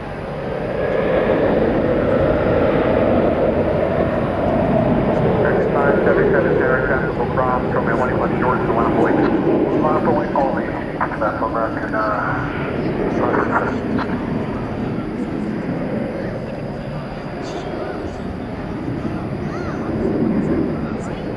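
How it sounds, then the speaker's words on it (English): An American Airlines Airbus A321 taking off at DFW at night on a flight to Tucson makes a long, steady jet engine roar that builds and holds, while voices talk through much of it. "There you see an Airbus A321, destination Tucson, Arizona, American flight"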